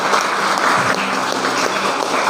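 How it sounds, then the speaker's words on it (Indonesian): A church congregation applauds during a Christmas worship service in Pekanbaru, a dense, loud burst of many hands clapping that continues evenly throughout without speech over it. "kita berikan tepuk tangan untuk kemuliaan nama Tuhan"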